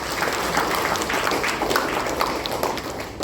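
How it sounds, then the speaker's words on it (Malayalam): Audience clapping together in a hall during a ceremony honouring parents, a steady dense patter of many hands holding at an even level throughout, with no voices over it. "ഈ അവസരത്തിൽ ഒരിക്കൽ കൂടെ കൈയടിച്ച് അഭിനന്ദിക്കട്ടെ"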